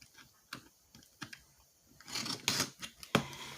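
Packaging tape sliced open on a pink box of cat-proof diamond painting trays, a string of sharp scratchy tears and cuts growing louder and denser toward the end, with no speech.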